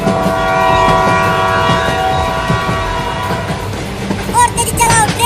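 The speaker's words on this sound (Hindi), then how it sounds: "ट्रेन पास आती जा रही है" A train draws near, its loud sustained horn blaring over a heavy rolling rumble and clatter, with a few short shrill bursts toward the end.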